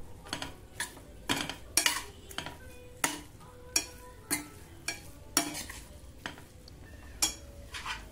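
Veg manchurian gets stirred in a pan with a spoon, giving rhythmic scraping and clinking strokes about once a second over a soft sizzle, close up with no talking.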